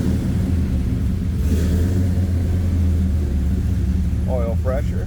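A 1970 Chevrolet Chevelle Malibu convertible with a 355 engine idles cold, a loud, steady low rumble that stays even throughout, with a brief chirping squeak near the end.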